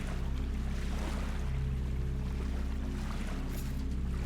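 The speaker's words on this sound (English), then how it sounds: "I awoke to the sounds of waves washing on rock" Waves wash against rock in the video game Salt and Sanctuary, a steady low rumbling surge of water that fills the clip evenly with no break and no talk.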